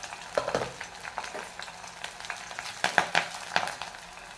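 Cumin seeds and garlic frying in hot oil for a spicy chilli chutney, a steady close sizzle with sharp crackles and pops that burst louder near the end, no voices.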